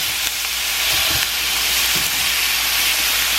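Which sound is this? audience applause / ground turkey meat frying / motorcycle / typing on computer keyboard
ground turkey meat frying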